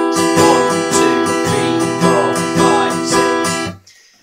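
Acoustic guitar strumming the opening two bars of a song in a steady six-beat down-strum pattern, ringing chords struck repeatedly and close, ending as the last chord is damped.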